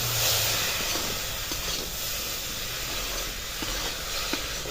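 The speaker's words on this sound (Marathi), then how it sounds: "हे वाटाणे असे घालून घ्यायचे आणि परतून घ्यायचे ह्या फोडणी बरोबर" Green peas sautéed in a sizzling spiced tempering, giving a steady close hiss and crackle with faint stirring, no voices.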